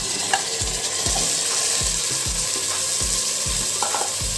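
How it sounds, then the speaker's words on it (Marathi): Marinated mutton goes into a pan of sautéed onions and sizzles loudly and continuously, with a series of dull scraping thumps from stirring at a rough, uneven rhythm. "आता मी त्यामध्ये हे जे आपण मॅरिनेट केलेलं मटण आहे ते टाकणार आहे।"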